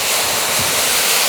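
Water hitting a very hot Camp Chef griddle on the Gridiron gives a loud, steady, broadband hiss of sizzling and steam that runs without a break.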